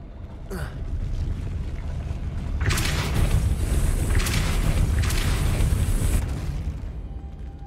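The Depulso spell goes off in Hogwarts Legacy with a deep, booming magical blast, followed by rumbling bursts and whooshing impacts that swell and fade over several seconds.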